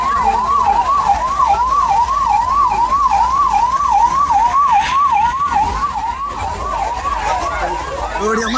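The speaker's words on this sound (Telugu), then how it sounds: "అంబులెన్స్ కూడా ఏదో వస్తుంది." An ambulance siren wails steadily in a rapid up-and-down warble, loud and continuous amid crowd noise at the gate of a Supercross and FMX stunt show event.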